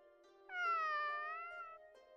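A single long, drawn-out cat meow from the Sword Art Online game, close and clear against quiet background with no speech.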